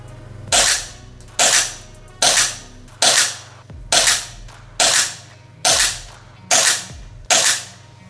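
UDL M17-style gel blaster with blowback firing shots through a chronograph: nine sharp, snappy cracks at an even pace about one per second, each with a short mechanical clack, close and loud with no talking.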